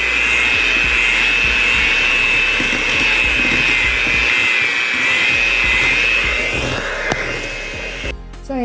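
Instant cake batter being mixed with an electric hand mixer, a loud, steady whine running continuously with a slight drop near the end.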